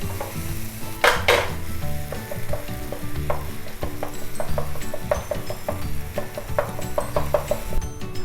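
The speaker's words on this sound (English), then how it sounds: "and we saute it further." Onion, tomato, turmeric and salt sauteing in a pan, a close, steady sizzle broken by light scrapes and taps of a stirring utensil against the pan.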